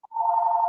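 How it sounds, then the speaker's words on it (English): A cordless phone rings, a short blip followed by a steady electronic trill, close and fairly loud, cut off abruptly. "Oh, my phone is ringing."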